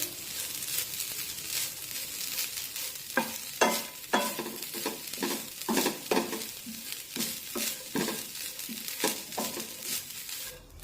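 Grated fresh coconut sautéed in ghee over a low flame, with repeated bursts of spatula scraping and stirring against the pan above a soft, continuous sizzle and no voices.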